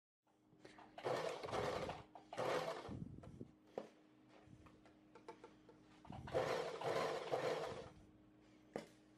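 A sewing machine stitches along a pocket seam through stay tape, running in several bursts of steady buzzing with brief pauses and small handling knocks between them.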